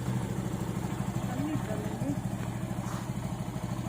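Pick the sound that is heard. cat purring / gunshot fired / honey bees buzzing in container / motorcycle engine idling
motorcycle engine idling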